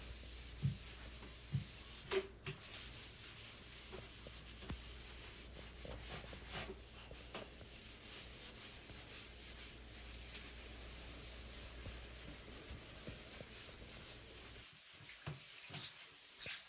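A sponge with Comet cleanser scrubs a very dirty, grainy-textured bathtub base, making a faint, continuous rubbing and scraping with a few light knocks near the start.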